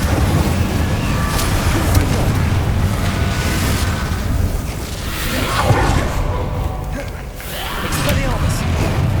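Fire spell cast in Hogwarts Legacy, a dense rolling fiery burst of booming, roaring effects that runs through the whole stretch amid other spell clashes, loud and close with no clear pauses.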